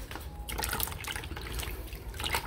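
Water runs steadily over a horned frog as it is rinsed of mud, a continuous splashing trickle close by with no talking.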